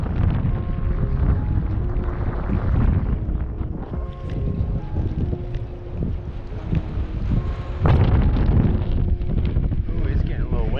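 Strong wind buffets the microphone on a lake full of lilies during a kayak fishing trip, with rumbling gusts throughout, water and boat noises, and a voice talking intermittently.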